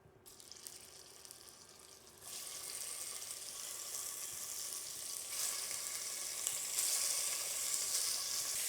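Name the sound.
brisket pieces searing in hot oil in a pot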